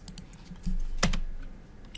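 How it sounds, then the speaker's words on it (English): A key is pressed on a computer keyboard, one sharp near click standing out from a low background hum, with a faint tap near the end. "press enter key."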